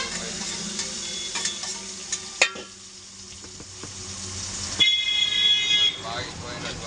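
Onion pieces frying in a pan for a dal and amaranth-leaf curry, a steady sizzle running throughout, with a few stirring clicks and a brief louder clatter partway through, and a faint voice in the background.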